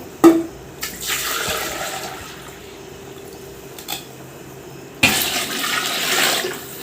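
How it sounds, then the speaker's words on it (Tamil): Measured water is poured into a large biryani pot for fifty people, opening with metal clanks and a splash, then a steady rushing pour that surges again near the end. "அளந்து எடுத்து வச்ச தண்ணியை வந்து இப்போ நான் வந்து கொஞ்சம் கொஞ்சமாக ஊற்ற போகிறேன்"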